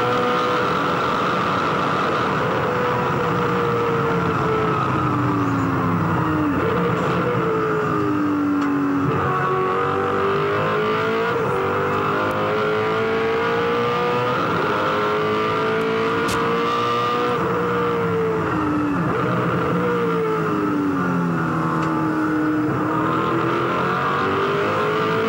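A race car engine heard from onboard with Mark Skaife at the 2003 Bathurst 1000 is loud and continuous, its pitch rising through each gear and dropping at the shifts over the full run, with no talk.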